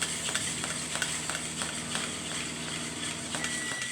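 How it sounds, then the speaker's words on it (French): Onions stirred in a pan, a steady soft sizzle with repeated light scraping clicks from the spoon at a regular pace, close by with no talk. "je vais mélanger, il faut attendre des oignons"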